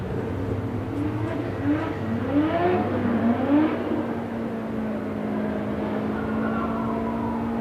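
Cars, including a Golf 3 and a Toyota, accelerate hard down a quarter-mile drag strip at a street drag event, engines rising in pitch through gear shifts before settling into a steady, loud drone.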